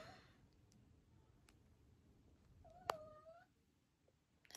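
A house cat gives a single short meow in a quiet indoor room, faint and alone, with a light click at the very end.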